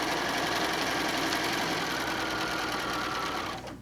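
A sewing machine stitches a straight seam down a quilt square made from fat quarters, running steadily and close up for nearly four seconds before slowing to a stop at the end.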